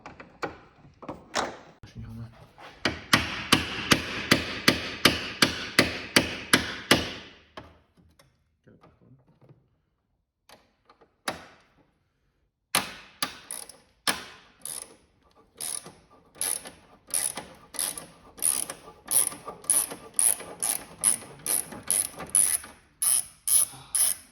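Rapid metallic strikes of a big hammer on a rusty bolt come in two long bursts of repeated blows, loud and close, separated by a quieter pause with scattered knocks.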